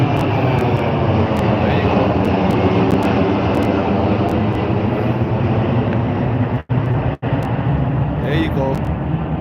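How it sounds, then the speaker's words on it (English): A plane taking off from London's city airport, a loud steady engine roar filling the air continuously for several seconds, with two brief dropouts near the end and people talking over it. "That's another plane taking off from the city airport."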